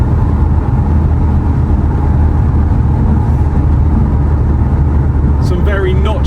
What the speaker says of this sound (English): this car pulls absolutely immensely. Turbo on this is very good.